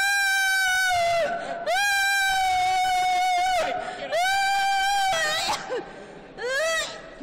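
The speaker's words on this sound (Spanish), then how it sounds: "¿Quién está escuchando al demonio gritar?" A person screams during a church exorcism: long, high, wailing shrieks that rise and fall, loud and close, broken by short gasps, with crowd noise in the background.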